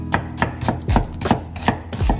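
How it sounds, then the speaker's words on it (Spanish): Onion being sliced julienne style on a cutting board, about eight crisp, evenly spaced knife chops heard up close with no voices. "cebolla estilo juliana"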